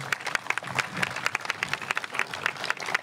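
An audience at a Duke Cancer Institute 50th anniversary celebration gives a round of applause, with sharp individual claps popping out of a lively, steady clapping crowd.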